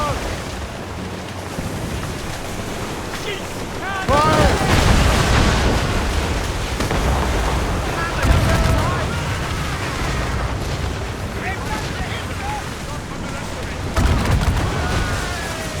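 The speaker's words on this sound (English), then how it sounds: "Make good use of your own mortars, Shay." Naval mortar fire in Assassin's Creed Rogue, heavy booming blasts rolling out over a sustained battle din, with voices calling out amid the chaos.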